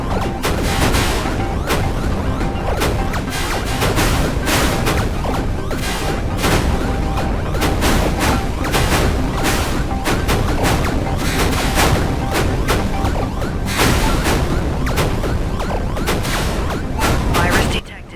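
Weapons blasting nonstop in the Nintendo Switch shooter Star Ghost, a dense, loud barrage of rapid explosive shots and booms that goes on for the whole stretch.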